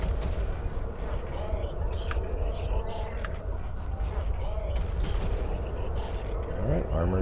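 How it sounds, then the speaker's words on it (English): Ship guns fire in EVE Online space combat: scattered sharp booming shots over a dense, continuous rumbling battle backdrop, with talk running underneath throughout. "Ooh, good hit from the guns."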